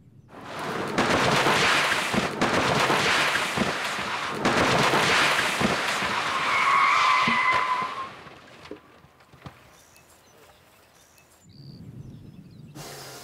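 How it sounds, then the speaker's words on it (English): A car driving a course on a televised driver-test show accelerates and skids, with bursts of tire noise and engine roar for several seconds, a brief squeal, then quieter engine sounds at the end. "Diane drives straight through the cityscape."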